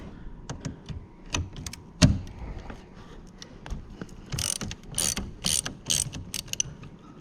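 Quick clicking ratchet strokes come in irregular bursts as a 10mm socket loosens a battery terminal bolt on a GMC 2500 HD pickup, close up and fairly quiet with small metallic knocks between the strokes.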